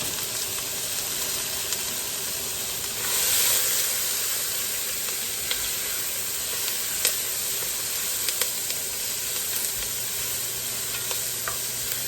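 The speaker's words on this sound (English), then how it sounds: "put a little bit of that flour that I use to on that meat to sear it" Floured, lightly seasoned Boston butt and beef neck bones searing in a hot pan, a steady close sizzle with light stirring and scraping throughout, no one talking.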